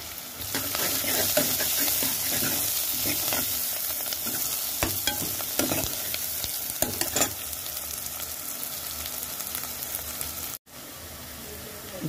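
Onions fry with ginger-garlic paste and turmeric in a pan for making onion pappu, giving a steady loud sizzle with scraping stir strokes throughout and a brief dropout near the end.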